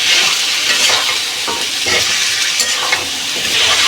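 Ginger paste frying in a pan for a chicken dish, a loud steady sizzle with scraping stir strokes repeating every half second or so throughout, close up with no voices.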